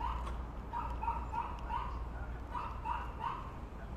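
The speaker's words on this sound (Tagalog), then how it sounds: "maliit din dyan ang aso dyan" A small dog yaps repeatedly in quick, high-pitched bursts, somewhat distant and faint over low background noise.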